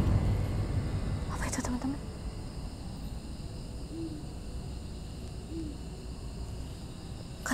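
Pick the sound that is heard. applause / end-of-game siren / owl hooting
owl hooting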